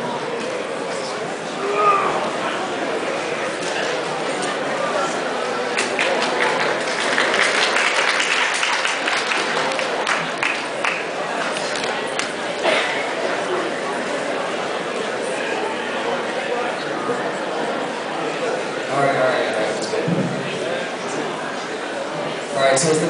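An audience claps in a room, a long, uneven patter of many hands that rises and falls, mixed with murmured voices and chatter throughout.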